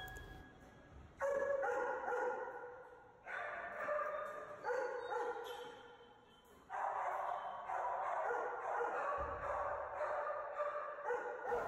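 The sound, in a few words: shelter dog barking in frustration at a toy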